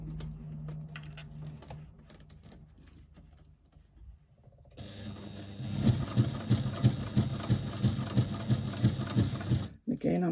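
Sewing machine stitching close to the fold of a bag: after about five seconds of quiet room tone, a loud, steady rapid mechanical whirr with regular needle pulses runs to the end, stopping briefly near the close.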